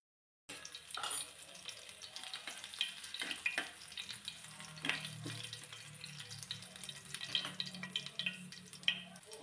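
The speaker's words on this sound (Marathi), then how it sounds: "जिरे छान असे फुलले की 1 चमचाभर मी चिरलेला लसूण घालते" Cumin seeds and chopped garlic fry in hot oil while green chilli pickle is being made. A soft, steady sizzle and crackle sits close up, with occasional stirring scrapes and no talking.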